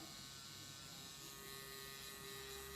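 A tattoo machine shading a tattoo gives off a steady, close electric buzz that holds evenly for the whole stretch, with no talking over it.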